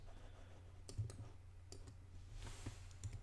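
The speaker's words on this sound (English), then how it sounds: "I'm just pushing the bracket keys to do that." Faint, sparse clicks of keyboard bracket keys being pressed while resizing a brush in photo-editing software, a few separate taps over a steady low hum.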